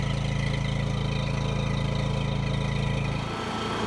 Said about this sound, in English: And it's just a murmur coming out of this exhaust vent here.